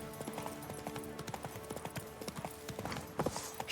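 Roach, Geralt's horse in The Witcher 3, walks with quick, distinct hoof clops in a clear rhythm, moderately close and fairly quiet, with a brief louder scuff near the end.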